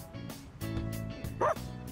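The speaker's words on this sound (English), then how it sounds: "Bark!" A dog in the Persona 3 Reload video game gives a single short, sharp bark near the end, heard over a game soundtrack with steady music.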